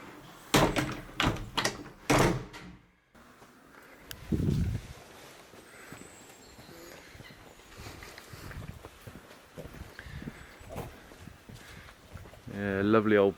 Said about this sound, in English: It's a nice chunky door.